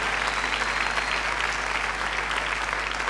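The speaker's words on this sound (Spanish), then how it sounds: "también la queremos distinguir con un fuerte aplauso" Sustained applause from an audience at a church harvest celebration, a dense, steady wash of many hands clapping at an even level throughout.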